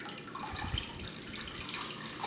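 A warm, wet washcloth is wrung out by hand in a quiet room, giving a close, steady patter and trickle of water dripping back into the basin, with one brief low splash partway through.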